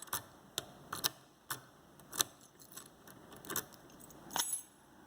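A metal pick rakes in and out of a Master Pro Series lock cylinder, giving a string of irregular sharp clicks and metallic scrapes in quick bursts, close and quiet with no talking.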